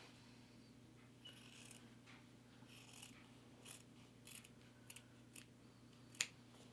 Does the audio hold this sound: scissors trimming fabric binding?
yes